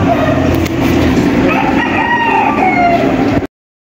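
Gamefowl stag rooster crowing loudly and close by, one long sustained crow filling the whole stretch before it cuts off abruptly.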